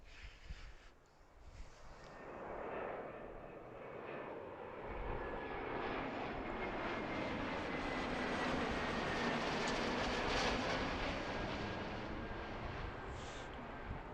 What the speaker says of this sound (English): It's another cool plane that we don't get to see very often, the Delta Boeing 717.